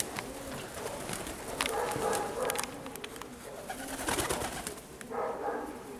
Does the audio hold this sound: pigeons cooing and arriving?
yes